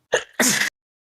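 A single close, loud sneeze from a person in a car, with a quick intake burst followed by a sharp explosive release, then silence.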